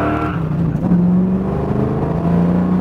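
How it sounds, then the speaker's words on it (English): Engine of a 1967 Ford Mustang fastback GT500 tribute pulling hard through the gears, a loud, steady, close-up roar with a shift partway through and no talking over it. "we're going to step on it here, get through a couple gears"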